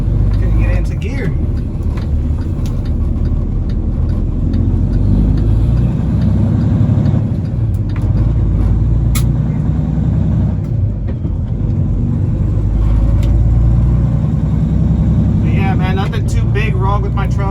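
A truck with 811,000 miles on it rumbles at a low pitch while driving, a loud steady drone close up with someone talking over it for much of the time.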